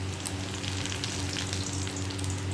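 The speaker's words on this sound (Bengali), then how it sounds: "এই যে বড়াগুলো ভাজা হয়ে গেছে," Lentil fritters (bora) deep-fry in oil with a steady, dense crackling sizzle. It holds close and even throughout, with no voices.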